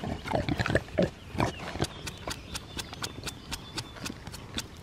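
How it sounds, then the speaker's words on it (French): A very large pig grunts at an animal shelter, a run of close, rhythmic snorts and grunts that starts loud and tapers into softer, evenly spaced grunts. "Alors ça, c'est un très gros cochon."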